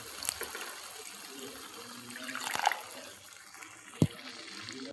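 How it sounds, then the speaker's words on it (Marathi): Half a bowl of water is poured into ridge gourd cooking with moong dal and salt, giving a soft splashing trickle that swells briefly before a sharp clink near the end. "यात थोडंसं असं अर्धी वाटी पाणी मी टाकून"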